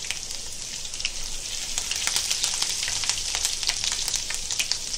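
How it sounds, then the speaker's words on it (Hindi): Fish coated with ginger, garlic and curry leaves fries on a high gas flame, giving a steady, close crackling sizzle with dense spitting pops throughout. "ये देखो, अभी मच्छी फ्राई कर रहे"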